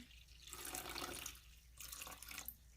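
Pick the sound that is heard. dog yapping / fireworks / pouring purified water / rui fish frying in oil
pouring purified water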